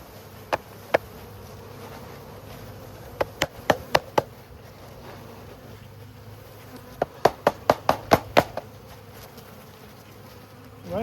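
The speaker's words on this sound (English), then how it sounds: "We dump the bees in." Honeybees being dumped from a package into a hive box onto a caged queen, a steady low buzzing hum broken by two bursts of sharp knocking thumps as the package is shaken and tapped.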